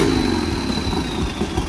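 A turbocharged Harley-Davidson 1200 motorcycle engine running steadily, a loud continuous rumble with a thin high whine on top, close by and without speech.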